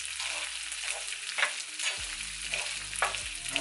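Garlic rice tossed in oil in a pan: a continuous bright sizzle with repeated scraping stirs and a few low knocks of the utensil, close by and with no talking.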